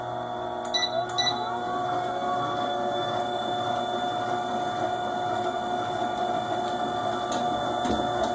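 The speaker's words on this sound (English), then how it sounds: "we're going to whisk that together until it becomes glossy" An electric mixer whisks royal icing with a steady whirring mechanical hum and whine, close and continuous, with faint clicks.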